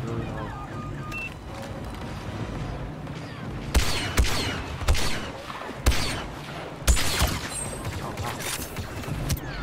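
Star Wars Battlefront 2 battle gunfire, a series of sharp bursts and thuds over a busy rumbling background, with players talking throughout.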